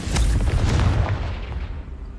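Confringo fire spell in Hogwarts Legacy bursting into a deep, booming explosion that rumbles loudly at first, then fades over about two seconds with no voices.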